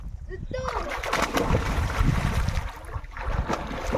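Someone dives into a village river in the morning, a splash of water followed by churning and sloshing as swimmers move about, with people talking and calling out close by.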